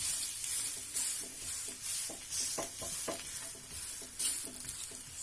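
A tomato omelette frying in an oiled pan on its second side, giving a steady close sizzle punctuated by several soft scraping and tapping sounds from a spatula, with no talking.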